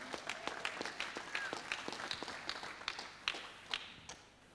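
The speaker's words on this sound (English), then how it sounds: "Let's have a round of applause for him." Scattered applause from a conference audience, sparse individual claps with a few louder slaps, moderately close and thinning out toward the end.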